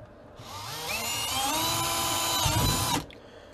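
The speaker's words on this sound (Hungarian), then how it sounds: "Ehhez fúrnunk kell egy lukat ide valahova" A power drill bores a 6 mm hole for the drain while a reverse osmosis water filter is being installed. The motor whines loudly and steadily for about two and a half seconds, then winds down abruptly.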